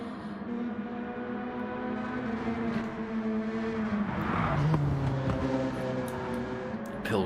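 Race cars lapping Mount Panorama in a racing video game, a Peugeot RCZ among them, with a steady droning engine note that rises in pitch, one car sweeping past near the middle, and no talking.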